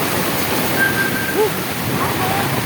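Heavy rain pours down during Typhoon Carina near the Tullahan River, a dense, continuous wash of noise with faint tonal chirps on top.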